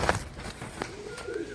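Madras pigeons in a small cage outdoors give a brief, soft coo or two, fairly close, with light rustling and no talk.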